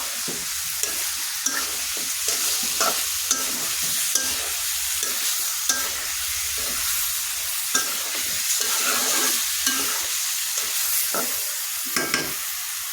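Beef being sautéed (kosha) in a pan, a loud continuous sizzle broken by repeated scraping and clattering stirs of a spatula at an uneven rhythm, close up and with no talking.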